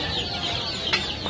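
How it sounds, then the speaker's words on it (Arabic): A hen and chicks cluck in a busy, noisy animal market, with short clucks and a brief bird call standing out against steady background commotion. "هاي الدجاجة هي وفراخها 25000"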